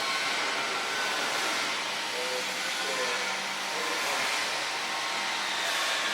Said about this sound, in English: you need to first click the gas to see if the machine is connected well with the